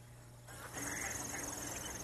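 Dabbling ducks quack at a freshwater impoundment on Blackwater wildlife refuge in Maryland, a few close calls over steady outdoor background noise.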